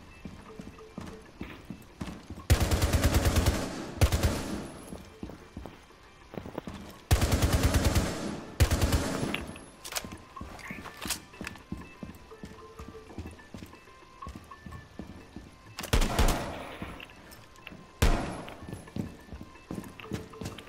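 Bursts of rapid gunfire from a strong gun in a competitive shooter video game, several loud dense volleys separated by quieter stretches of scattered shots and clatter, with faint game noise between.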